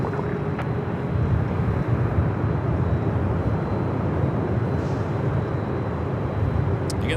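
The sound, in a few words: airliner from Atlanta at LAX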